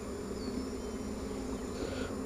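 Honey bees drone steadily at a hive entrance where foragers return during an inspection, a dense, continuous close-up buzz with no other sounds.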